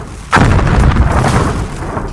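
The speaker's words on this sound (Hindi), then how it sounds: "अब यहीं पर अगर पुतिन की किंजल मिसाइल का अटैक हुआ है तो समझ लीजिए कि धमाका भी बहुत बड़ा हुआ है" A heavy blast from a Kinzhal missile attack, with one sudden loud boom followed by a sustained rumbling roar that slowly fades, with no voices.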